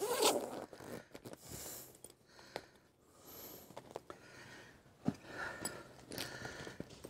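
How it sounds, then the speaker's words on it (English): A sprayed tent zipper on a Jayco camper trailer is dragged back and forth several times up close, with short rasping runs separated by brief pauses and a few sharp clicks. "I like to spray the actual zip as well. Work it backwards and forwards."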